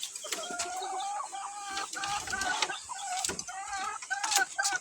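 Chickens clucking and calling nearby in repeated short bursts, with sharp knocks and rustling scattered throughout.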